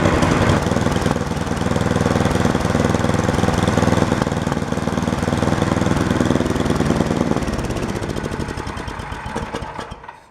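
Small snowblower engine idling steadily after a cold start as it warms its oil, a close, loud, continuous chug with a slight skip from a dirty carburetor, then cutting off at the end.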